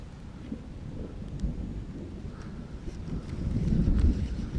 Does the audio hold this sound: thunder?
yes